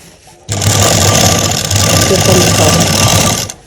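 A sewing machine runs a seam along a garment neckline in one continuous, loud, close whirring burst of about three seconds, starting abruptly and stopping near the end.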